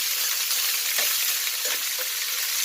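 Pork pata for Bisaya humba fries in hot oil until golden brown, a dense, steady crackling sizzle with a few soft pops and stirring knocks, close and continuous, with no voices.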